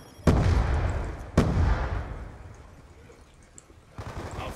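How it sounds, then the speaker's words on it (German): Gunfire in the Black Ops shooter game, a submachine gun firing three-round bursts: two sharp loud bursts close together, then another starting at the end, with a dense rumbling tail between them. "Das ist ein Burst mit 3 Schuss."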